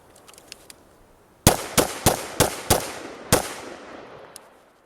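An AR-15 rifle fires six sharp, loud shots at a shooting drill, five in a quick uneven burst and one slightly later, each with a short echoing tail over faint background noise.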